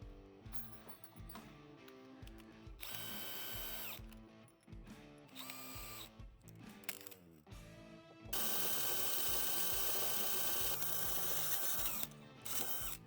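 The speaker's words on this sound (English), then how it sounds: "we're going to switch to the middle bit to make the drilling process easier" A power drill whines and grinds steadily while drilling through metal, its pitch rising and falling as the bit bites, with brief pauses and a louder, harsher stretch near the end.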